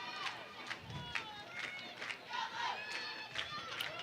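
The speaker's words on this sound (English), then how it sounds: "Crowd is getting loud" Crowd noise at an extra-innings college softball game between Michigan and Illinois, with overlapping shouts and chatter from fans and the dugout rising in bursts throughout, moderately distant and continuous.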